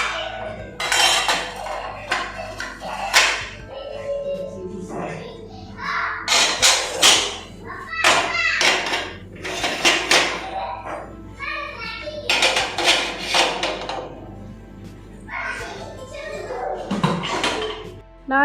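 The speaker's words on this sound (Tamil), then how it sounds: "வாஷ் பண்ணி வச்சுருந்த பாத்திரம் எல்லாத்தையுமே எடுத்து அதாவது இடத்துல அரேஞ்ச் பண்ணி எடுத்து வச்சுக்கிட்டு இருந்தேன்." Washed plates, spoons and bowls clink and clatter as they are stacked and put away in a home kitchen, in repeated bursts while someone talks and a voice is heard.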